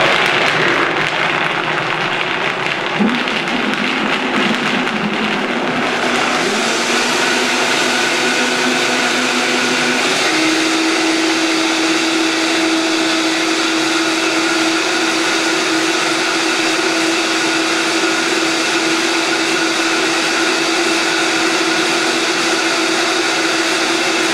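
A blender whirs up blueberries into a purple smoothie, the motor starting, climbing in pitch, then settling into a loud, steady drone that runs on for over twenty seconds.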